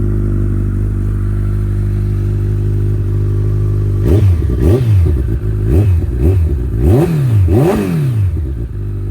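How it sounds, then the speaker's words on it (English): A 2014 Kawasaki Ninja ZX-14R fitted with Two Brothers exhaust pipes idles with a deep, steady rumble, then snaps through a series of sharp, loud throttle blips that rise and fall repeatedly, close by. "These bikes sound great, although I do appreciate that the previous owner put on the two brothers pipes, because you get good sound"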